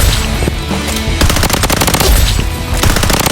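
The AKG gun in the shooter game Blood Strike fires rapid automatic bursts, loud and close. The dense cracks come with only brief pauses between volleys.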